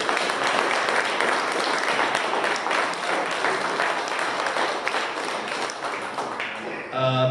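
Sustained applause from an audience at a model car show awards ceremony, dense and steady clapping filling the room, tapering off near the end.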